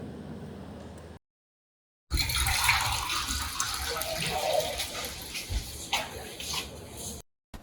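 Water pours and splashes onto a plate in a brief, fairly quiet rush, cut by a short silent gap before continuing steadily.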